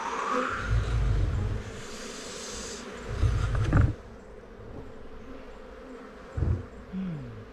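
Honeybees buzz at an opened beehive in a winter apiary, a steady close hum with louder swells, some brief low bumps and handling noises mixed in.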